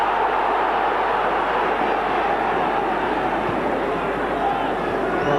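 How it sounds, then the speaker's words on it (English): Dense, sustained roar of a football stadium crowd at an FA Cup tie between Manchester City and Liverpool, loud and continuous throughout, rising in a crowd scream for a handball. "Screams from the crowd there of handball"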